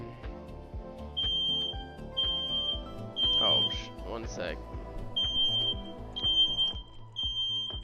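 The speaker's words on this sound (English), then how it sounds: "my smoke alarm went off" A home smoke alarm chirps in repeated high, evenly spaced beeps across the whole stretch while a person speaks briefly over it.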